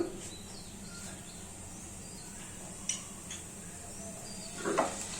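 Whole cumin and spices fry gently in a pan, a faint steady sizzle with a couple of light clinks of a utensil against the pan.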